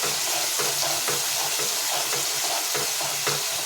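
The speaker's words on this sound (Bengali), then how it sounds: "অল্প লেবু রসটা দিয়ে নাড়াতে হবে" A little lemon juice is stirred into a dish cooking in a pan, giving a loud, dense sizzle with rhythmic stirring strokes about twice a second, close and without speech.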